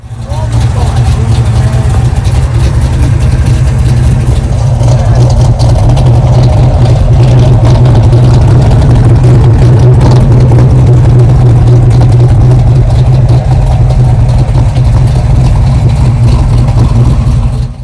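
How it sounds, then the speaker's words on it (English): A 1971 Mopar muscle car with a stroked 496 cubic-inch big block, six-pack carburetion and a four-speed, idling with a loud, steady, deep rumble throughout, with people talking over it. "This 1971 has a stroked big block, 496 cubic inches with a 6-pack and a 4-speed."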